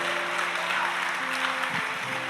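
A church congregation applauding during a sermon, forming a steady wash of clapping that runs the whole time under a sustained musical hum.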